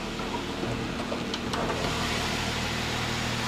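A 2015 Jeep Wrangler Sport's V6 engine runs with a steady, continuous low rumble and even broadband hum, close and unbroken, with no one talking.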